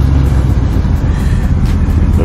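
A 1985 Chevy Impala with its old 305 V8 running right after start-up, a loud, steady, close engine rumble that fills the whole stretch without pause.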